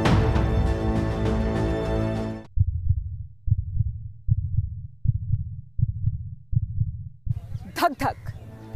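Steady double-thump heartbeats pulse at an even rhythm, about seven beats in a row, low and close, following a burst of louder music and ending under a brief breathy noise.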